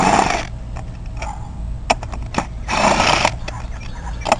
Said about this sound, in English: Remove the 7 bolts using a 1/2" socket.